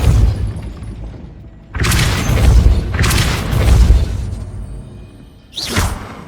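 Depulso spells cast in the Hogwarts Legacy video game, each a loud booming whoosh with a crackling burst; three strong blasts in quick succession followed by a fourth after a short pause.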